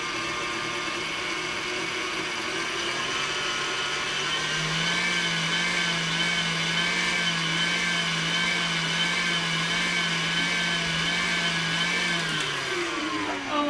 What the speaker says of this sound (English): Oh my goodness, this mixer's cracking me up. It sounds pained.